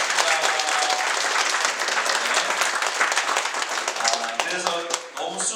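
A church congregation at a Sunday service applauds the choir in thanks, a thick, sustained burst of many hands clapping that thins into scattered individual claps near the end, with a voice breaking in.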